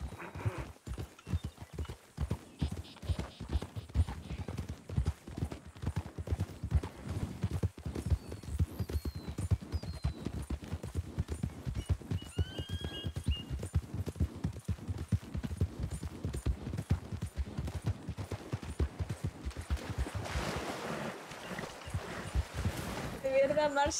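Several horses walk with steady, overlapping hoof clip-clops throughout, close and fairly loud, with a brief whinny and occasional voices talking over the hoofbeats.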